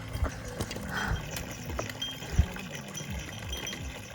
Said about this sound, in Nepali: घोडा हो कि खच्चड हो सायद घोडा होला यस टोलीहरू जाँदै हुनुहुन्छ अगाडि अगाडि